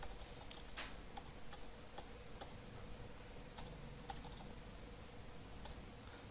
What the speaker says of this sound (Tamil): நம்ம ஜஸ்ட்டு அவங்களுடைய அட்ரஸ் தெரிஞ்ச அட்ரஸ் டைப் பண்ணுறோம்